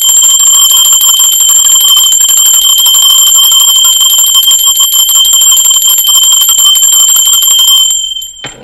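A bell rings continuously and loudly for about eight seconds, sustained bright metallic tones with a steady rapid trill like an alarm or bicycle bell, then cuts off abruptly near the end.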